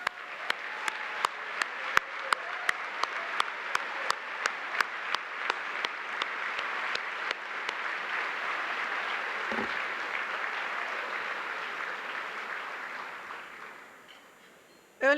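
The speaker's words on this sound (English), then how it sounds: "So join me in another round of applause." Audience at an induction dinner and ceremony applauding, beginning with a few distinct separate claps that swell into a full steady round of clapping, which fades near the end before a sharp sound cuts in.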